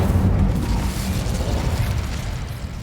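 The Incendio fire spell from the Hogwarts Legacy video game bursts out as a loud, rumbling, roaring blast that holds for about three seconds and fades slightly at the end.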